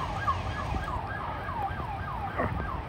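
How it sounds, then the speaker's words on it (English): Wailing ambulance and police car sirens rise and fall in a repeating pattern over steady traffic noise on a backed-up highway during a thunderstorm, sounding moderately distant and continuous. "Ambulance, cop car."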